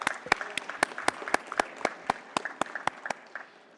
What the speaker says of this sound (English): Round of applause to welcome A.N. Rai sir.